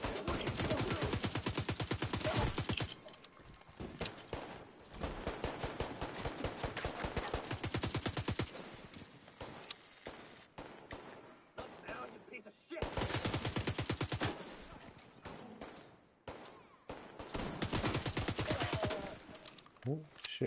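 Video game turret firing rapid automatic bursts at enemies, loud clattering volleys in several long stretches separated by brief quieter gaps, with occasional speech between.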